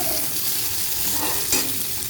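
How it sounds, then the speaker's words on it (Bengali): Dry red chillies and whole spices spit and crackle in hot oil, a steady close sizzle with one sharper pop near the end, no voices. "শুকনো লঙ্কা শস্য ফোড়ন আমরা তেলে দিয়ে দিচ্ছি"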